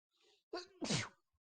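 A person sneezes once, a brief close burst of breath and voice in a quiet room, with a fainter intake of breath just before it.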